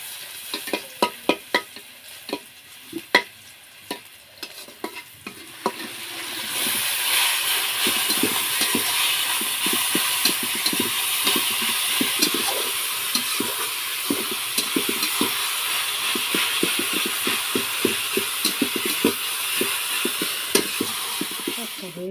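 Garlic frying in a pan for a fish and shrimp dish: scattered spoon taps and scrapes at first, then a loud, steady sizzle rises and holds, broken by frequent stirring clatter.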